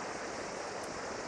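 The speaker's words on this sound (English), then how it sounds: "this is Git Git Waterfalls in Bali" Git Git Waterfall near Lovina in Bali, a steady broadband rush of falling water that stays even and unbroken throughout, with no voices over it.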